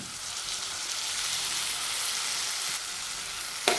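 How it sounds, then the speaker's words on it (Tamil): Tomatoes, ginger and onion sautéing in oil for a spicy ginger chutney, a steady close hiss and crackle of frying with a brief scrape near the end. "தக்காளியும் சேர்த்து நல்லா வதக்கி விடுறேன் அதுவும் நல்லா எண்ணெயில் வதங்கட்டும்"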